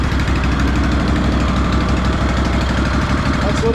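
A 2004 Craftsman DLT3000 lawn tractor engine idles steadily and loudly close by, a continuous rhythmic chugging throb running evenly through the whole stretch.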